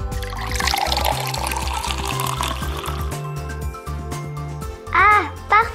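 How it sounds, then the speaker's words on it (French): Cold tap water runs into a child's bath, a steady broadband rush of filling water heard close up, with a voice and brief vocal sounds rising over it near the end. "On va mettre un peu d'eau froide."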